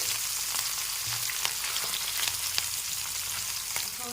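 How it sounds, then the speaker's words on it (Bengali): Small mourala fish frying in hot oil in a pan: a steady, dense sizzle with scattered sharper pops and crackles, close and continuous with no talk. "এখানে যা মাছ নিয়েছি সবগুলো একসাথে ভাজা যাবে না তাই আমি দুবারে ভেজে নেব অর্ধেক অর্ধেক করে"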